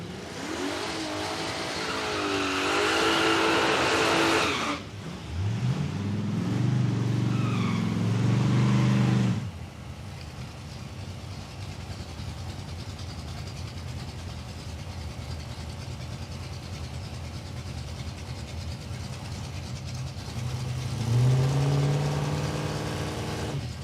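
Drag cars, including a wagon, race down the strip at Palmyra Raceway, with two loud bursts of engine revving and tire noise early on, a quieter rumbling stretch, then another rising engine note near the end.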